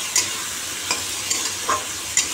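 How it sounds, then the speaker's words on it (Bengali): Masala of tomato, cumin powder, turmeric and salt sizzles in a pan for a tengra fish curry, a steady hiss broken by a few soft scraping stirs. "এবার জল দিয়ে দেবো।"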